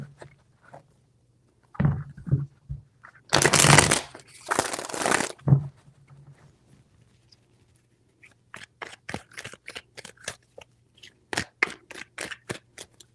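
Tarot cards are shuffled close by: a few scattered taps, then two dense riffling bursts, followed after a quiet gap by a long series of crisp, separate card snaps.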